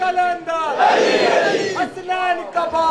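Worshippers at a majlis in Dera Ghazi Khan shout a religious slogan together, a loud collective roar swelling in the middle after a lead voice calls out, then another call and response.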